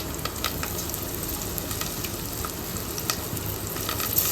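A ground paste of ginger, garlic, green chili and shallots fries in a pan with a steady, close, crackling sizzle and occasional small pops, and no voices.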